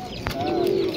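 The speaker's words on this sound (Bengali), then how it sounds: "দেখুন পায়রাগুলো খুব সুন্দর" A pigeon coos once, close and clear, among the birds for sale at the Galiff Street pigeon market, with a faint murmur of the market behind it.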